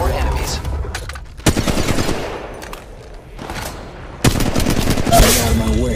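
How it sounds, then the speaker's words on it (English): Gunfire erupts in Apex Legends Mobile, with loud bursts of rapid automatic shots separated by brief quieter gaps, close and intense, with occasional game voice lines mixed in. "I am taking fire, friends."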